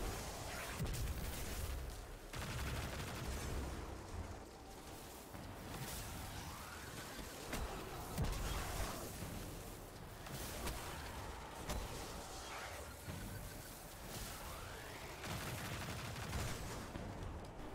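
Rapid weapon fire in the video game Destiny 2 while shooting enemies and exploding shanks in a lost sector, dense continuous bursts of shots and impacts with game effects, fairly quiet and steady throughout.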